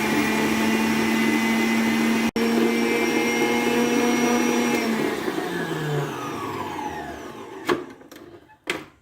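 Electric mixer whirring steadily as it beats eggs, sugar and oil for a moist chocolate cake, a loud constant motor drone that winds down and stops, followed by a couple of clinks.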